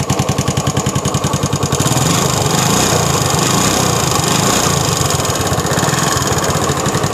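TVS XL 100 moped engine catching after a kick start and settling into a loud, steady, rapid putter close by, with no voices over it.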